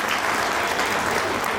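Audience applause at a Marathi agricultural award ceremony, a dense, steady burst of many hands clapping together throughout, fairly close and loud with no speech over it.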